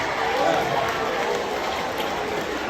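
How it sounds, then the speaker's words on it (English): An audience at a keynote speech applauds in a dense, steady wash of clapping that holds evenly throughout, with murmured voices mixed in. "Round of applause for all of you, yeah."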